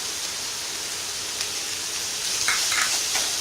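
Sliced onions frying with salt while being stirred in a pan for tomato rice: a steady, close hiss of sizzling with scraping stir noises that grow slightly louder toward the end.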